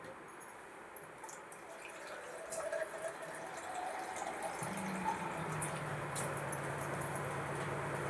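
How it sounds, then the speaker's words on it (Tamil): Water is poured into crab gravy simmering in a pan, giving a steady wash of splashing and bubbling that starts soft and grows fuller, with a low gurgle joining midway and no talk over it. "அந்த மசாலா ஐட்டத்தில் அந்த குழம்புல முழுகிற அளவுக்கு கொஞ்சமாக தண்ணி சேருங்க"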